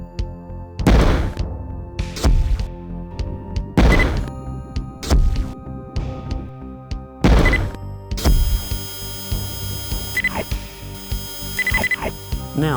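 In the 3DO game Immercenary, the screen-clearing Nukia weapon unleashes heavy booming blasts in a rough rhythm, five loud thumps followed by a denser stretch of ringing electronic tones and smaller impacts.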